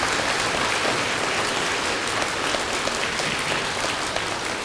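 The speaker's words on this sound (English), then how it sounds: "if you would please give those hardworking individuals a round of applause" Steady, continuous applause from an audience at a school district awards celebration, a dense even patter of clapping filling the whole stretch with no voices.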